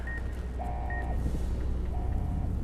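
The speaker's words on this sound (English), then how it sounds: "Beep Beep is coming from the other side." In Fallout: New Vegas, a repeated electronic beep sounds at a steady interval of roughly one per second, heard over a dense, constant rumbling game backdrop with no talking.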